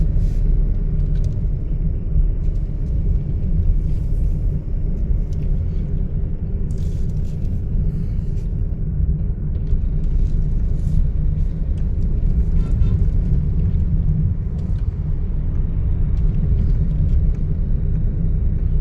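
A car in third gear during a driving lesson, a steady low engine and road rumble heard from inside the cabin, continuous and even throughout, with no speech.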